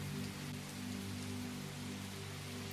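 Steady rain falls outside a forest cottage at night, a continuous soft hiss of drops on surfaces with no voices, even and unbroken throughout.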